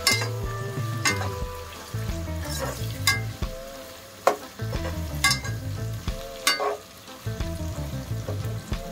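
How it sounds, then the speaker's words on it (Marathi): Onions fry in a pan with black pepper, cloves and cinnamon, a soft sizzle broken by repeated scraping and knocking stirs of a spoon against the metal pan at an uneven rhythm. "कांदा भाजून घ्यायचा चांगला लालसर होईपर्यंत"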